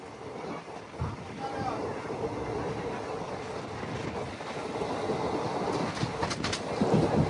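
Express train running from Tiruchirappalli to Rameshwaram across the Pamban bridge, the vertical-lift sea bridge, a continuous rumbling roll of wheels on track that builds slightly louder toward the end, with faint voices in the background.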